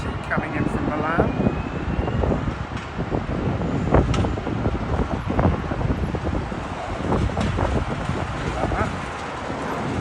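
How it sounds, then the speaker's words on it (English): Airbus A320 airliner arriving at London Heathrow from Milan, a rumbling engine roar mixed with gusty wind buffeting the microphone, steady throughout, while a person talks over it. "Airways Airbus A320 coming in from Milan"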